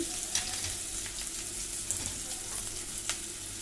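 Chopped onion sizzles in hot oil over a low gas flame, a steady even frying hiss with a few faint clinks from a utensil, close by with no voices.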